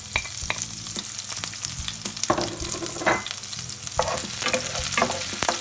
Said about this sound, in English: that's when you add the garlic and the chilies all together